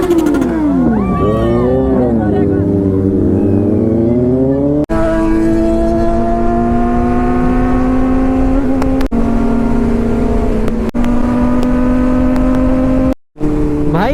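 Kawasaki ZX6R sport motorcycle with a loud aftermarket exhaust revving hard up and down close by, a continuous high-pitched wail with rising and falling pitch and a few brief gaps between pulls, loud throughout.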